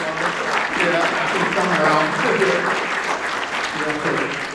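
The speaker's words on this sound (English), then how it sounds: "Give you a round of applause." An audience at an annual community loan fund event applauds the staff with sustained clapping lasting the whole stretch, fairly close and full.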